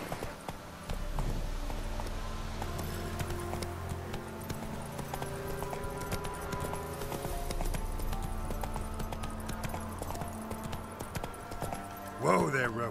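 Roach the horse gallops in The Witcher 3, rapid rhythmic hoofbeats running steadily under background music, with a brief sharp accent near the end.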